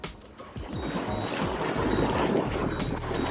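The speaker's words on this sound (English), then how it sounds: "Now I'm starting to use the engines." Twin engines on a yacht maneuvering, one running forward and one astern to rotate the boat, a steady low churning rumble with water wash that builds slightly and continues throughout.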